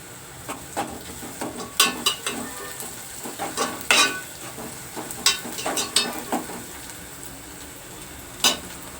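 Onions and curry leaves fry in a pan for a raw prawn and drumstick curry. A steady sizzle runs throughout, broken by sharp clinks and scrapes of a spoon stirring at irregular intervals, close and with no voices.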